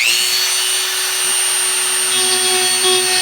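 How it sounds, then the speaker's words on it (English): A Dremel rotary tool spinning at roughly 15,000 to 20,000 RPM cuts a small channel in a Canik SF Elite pistol trigger part, giving a loud, steady high-pitched whine close up with no talking. "that's where your Dremel's going to come into place"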